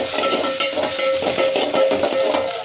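Onion stirred in a frying pan, a steady sizzle broken by repeated scraping stir strokes, close and fairly loud for a few seconds.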